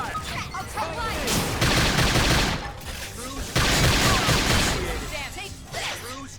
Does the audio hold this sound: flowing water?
no